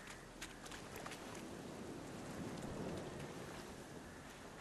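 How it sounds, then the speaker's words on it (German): A storm in the video game The Witcher 3, steady hiss of rain and wind with a few faint rumbles, a constant even wash without distinct events. "Oh, dieser Sturm."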